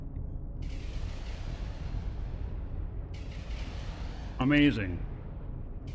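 Ship weapons in EVE Online fire at enemies during a mission against a Concord Assembly, heard as low booming rumbles and repeated bursts under steady background noise, while someone speaks briefly near the end.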